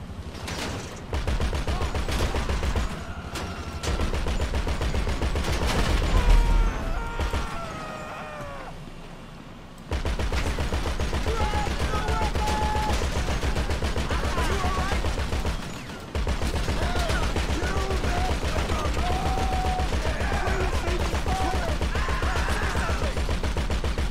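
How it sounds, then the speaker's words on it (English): Rapid gunfire in GTA 5 Online, dense bursts of automatic shots rattling nearly nonstop at close range, with brief pauses between volleys and someone talking over parts of it. "Where am I getting shot from?"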